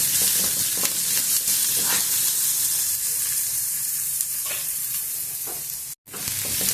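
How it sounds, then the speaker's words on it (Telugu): Onions sautéing in a pan for a brinjal curry seasoned with cumin, giving a steady, close sizzle with occasional stirring scrapes and a brief drop-out near the end. "ఉల్లిగడ్డను కొద్దిసేపు మగ్గనిద్దాం"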